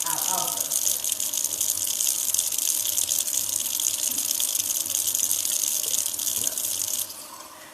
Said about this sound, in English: This is warm water that I'm putting into my dish.